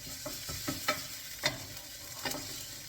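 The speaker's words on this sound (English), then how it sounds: "Keep stirring it around." Thai red chicken curry frying in a pan, a spoon scraping and stirring in several distinct strokes over a soft continuous sizzle, close and fairly quiet.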